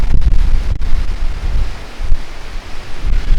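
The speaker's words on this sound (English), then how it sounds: "It's quite windy" Strong wind in Cadiz buffets the microphone in loud, low rumbling gusts that rise and fall without a break.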